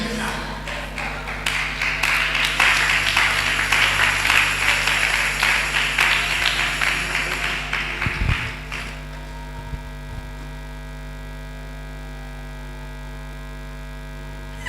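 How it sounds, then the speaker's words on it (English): Church congregation clapping loudly and steadily for about eight seconds, a dense crowd applause over a constant electrical hum, then stopping abruptly and leaving only the hum with a few faint knocks. "why are you clapping?"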